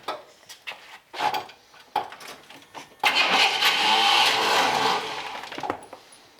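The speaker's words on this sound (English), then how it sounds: "Starter's not sounding happy now." An old OBS GMC truck's starter cranks the engine, first as a few short stuttering attempts, then one long labored grind of about two seconds that tails off into ragged sputters, close by.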